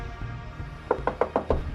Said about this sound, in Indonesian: Ketok aja, Bal.